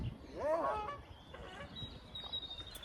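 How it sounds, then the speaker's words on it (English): A goose honks once, distant and somewhat faint, over steady outdoor background hiss at a lakeside fishing spot. "I think that was that goose, wasn't it?"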